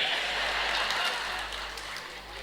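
Audience applause at a humour club anniversary celebration, a broad wash of clapping from many hands that stays steady and then gradually fades, heard without talk.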